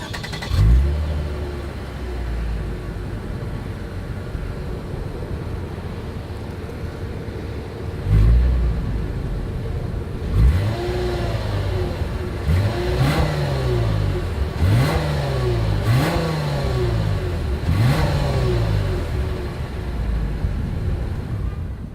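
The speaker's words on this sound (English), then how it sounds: "As always, here is that exhaust clip." A 2021 Lexus IS 300 sedan's exhaust idles, then revs repeatedly in short, rising bursts, the engine note climbing and dropping several times, close and loud with no talking.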